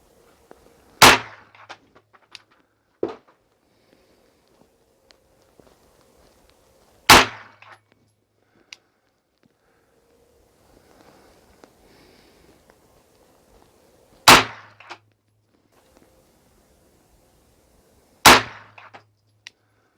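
A Beretta 92 FS pistol fires Hornady XTP bullets at a range, four sharp, loud shots spaced several seconds apart, each with a short ringing tail, and faint handling noises in between; no one speaks.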